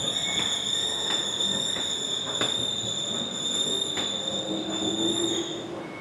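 A passing train heard at close range, with a continuous high metallic wheel squeal over rumbling rolling noise and periodic rail clacks, steady throughout before easing at the end, no talking.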